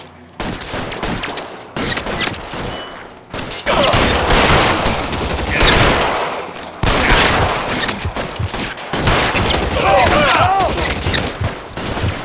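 A shootout in L.A. Noire crackles with dense, loud gunfire, rapid overlapping shots and bursts that keep coming in waves, with voices shouting over the barrage.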